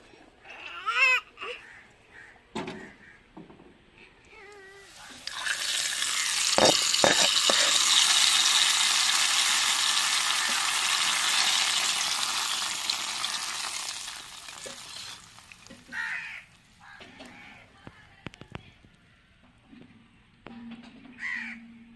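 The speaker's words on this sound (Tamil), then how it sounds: "இப்போ குழம்பு இறக்கி வச்சு நம்ம தாளித்து எடுத்துக்கிறோங்க" Tempering spices for a Tamil kuzhambu curry crackle and hiss in a hot pan in one loud, steady burst of about ten seconds, with bird calls like crows before and after.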